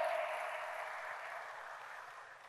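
A church congregation clapping hands during a sermon, a soft wash of many hands that fades gradually over a couple of seconds.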